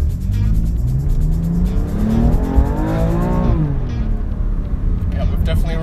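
A car engine rumbles steadily, then revs up and falls back while people talk inside the car.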